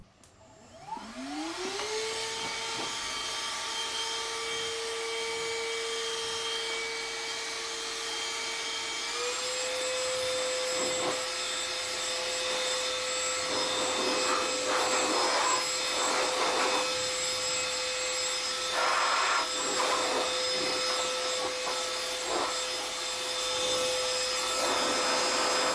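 Parkside 20V shop vac running in blower mode, a steady close whirring whine that spins up at the start, rises slightly in pitch partway through and then holds, with faint rustling and no talk.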